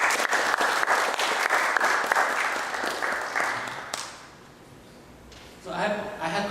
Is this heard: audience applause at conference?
yes